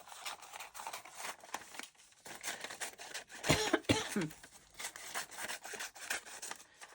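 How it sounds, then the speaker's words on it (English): Scissors snip through paper pieces being trimmed down for a junk journal topper, a few quiet cuts and rustles close by with no talking. "I'm just cutting these down a little bit."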